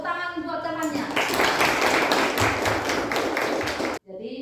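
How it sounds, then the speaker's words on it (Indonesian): Classroom applause for a student, a burst of many hands clapping that starts near one second and runs steady and dense for about three seconds before stopping abruptly, with a voice speaking briefly before it. "Tepuk tangan buat temannya."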